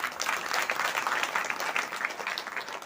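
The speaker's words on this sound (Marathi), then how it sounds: "त्या मुलांसाठी एकदा जोरदार टाळ्या" Loud, dense audience applause at a Marathi kirtan gathering, a steady stream of many hands clapping close by, honoring the children who sang.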